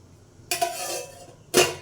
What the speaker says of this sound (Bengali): এখন বাসনগুলো ধুবো